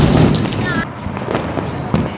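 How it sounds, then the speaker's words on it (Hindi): A Diwali rocket firework goes off amid festive celebrations, a loud broadband crackling rush with bursts and a rising whistle, set against crowd noise and nearby people talking. "ये देखो अरे रॉकेट।"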